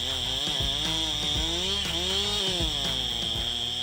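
A chainsaw runs during the felling of a large mahogany tree above a river, its malfunctioning engine whining and surging with pulsing revs in a loud, continuous drone, nearby and alone.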